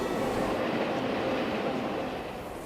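A Southern Pacific Daylight steam train rolls past a road crossing, giving a broad, steady rumble that stays loud, then eases off slightly toward the end.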